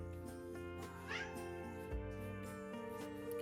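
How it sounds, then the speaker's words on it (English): A cat meows a few times in an art studio over a steady background hum, the cries rising and wavering, fairly close but soft. "Can you hear my cat?"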